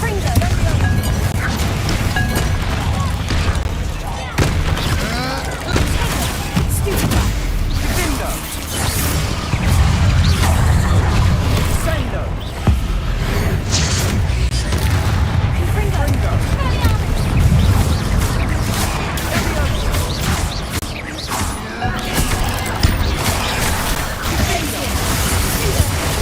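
Repeated fire-blast spell explosions in Hogwarts Legacy: dull booms and crashes over a dense, continuous wash of game noise with rumbling lows, sustained throughout with intermittent sharper impacts.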